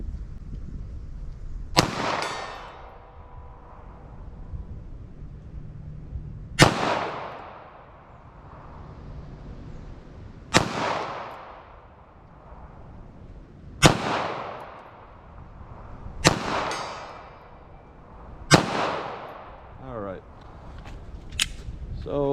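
A .380 ACP pistol loaded with Lehigh Xtreme ammunition fires six sharp, loud shots spaced a few seconds apart, each cracking and ringing out briefly before the next.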